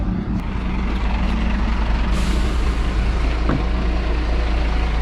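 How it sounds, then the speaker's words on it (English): Massive lorry at a petrol station exit, a loud continuous low diesel rumble with a brief hiss of air release midway, close by and without talk. "I've got no idea if this massive lorry's stuck"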